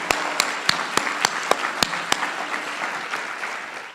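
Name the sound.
audience applause for presenters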